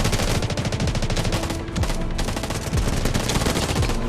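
Rapid, dense gunfire in the Delta Force video game, near and loud. Sharp shots repeat in a steady burst for the whole stretch, with a short dip in the middle.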